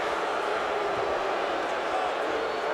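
A college football crowd at the Cheez-It Bowl between Clemson and Iowa State voices its displeasure, a loud, steady roar of booing and shouting from the stands with no break.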